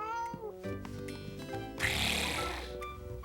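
Children's voices imitate a cat's meow in a playful cartoon scene. A drawn-out mewing cry rises over light background music, and a brief rough burst follows.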